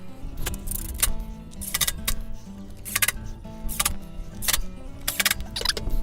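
Small metal screws for tablesaw sled sliders being handled and driven in, a run of sharp clicks and metallic clinks in irregular bursts close by, with no talking.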